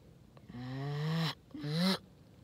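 Goose call blown from the back end, two long raspy honking tones with a short pause between, close and fairly quiet, each note sliding slightly in pitch.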